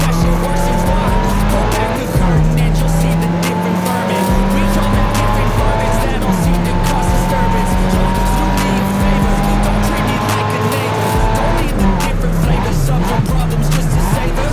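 Front-wheel-drive street car cornering in GRID Autosport, engine revving loud and steady with repeated tire squeal and skidding through bends, while someone commentates over the racing.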